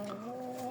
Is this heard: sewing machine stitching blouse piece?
no